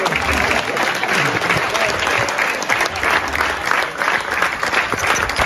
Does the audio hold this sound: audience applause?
yes